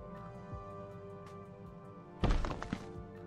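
A terraforming explosion blasts a canyon in the Farlanders video game: a sudden deep, booming thud breaks over quiet background tones late in the clip and then fades.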